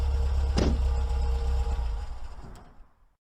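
A car engine sound effect from an old-time radio murder drama rumbles at a steady low idle, then a brief clunk sounds before it fades out to silence.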